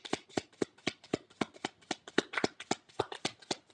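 Tarot cards shuffled by hand in a quick, even run of crisp riffling snaps, about a dozen close, clear strokes in a row with no talk over them.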